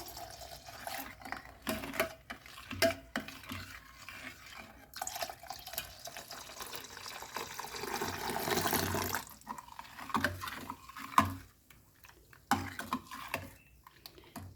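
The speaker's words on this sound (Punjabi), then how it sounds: "ਹੁਣ ਆਪਾਂ ਵਿੱਚ ਦੁੱਧ ਪਾ ਦਾਂਗੇ" Milk poured into a glass of watermelon sharbat, a steady liquid pouring and splashing sound at close range with a few brief clinks and pauses, no voices.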